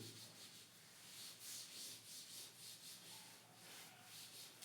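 A duster rubs writing off a board in a geometry class on constructions, a rhythmic series of soft swishing back-and-forth strokes, close and fairly quiet, with no talking.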